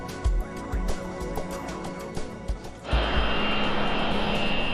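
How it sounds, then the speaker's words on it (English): Boeing 727 jet airliner engines idling at the runway threshold before takeoff, a steady loud roar under thumping cockpit noise that swells into a broader, denser whine partway through. "The 727 is now at the runway threshold, preparing for takeoff."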